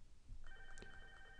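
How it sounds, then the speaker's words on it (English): A softphone rings through a computer after an agent logs in to a hosted call-centre dialer, a brief faint electronic ring tone with steady tonal lines and no speech. "That's rung my soft phone."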